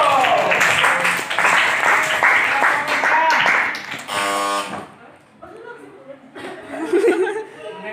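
A school class at an Indonesian debate practical exam claps for the pro team, a short burst of applause mixed with laughter and chatter, then a buzzer-like tone and quieter murmuring voices.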